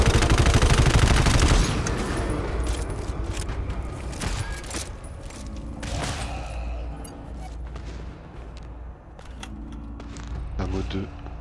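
Rapid bursts of gunfire in the video game GTFO crackle and boom, loud at first then continuing in scattered volleys with metallic clatter.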